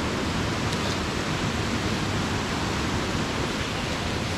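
Cachoeira da Porteira waterfall in the Amazon rainforest, flowing water roaring as a dense, constant rushing wash, loud and close without a break.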